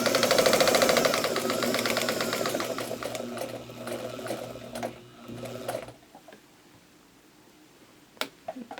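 A sewing machine stitches a quilt block for an eight point star, a steady rapid whirring hum close up for several seconds, then it stops, leaving quiet with a couple of small clicks.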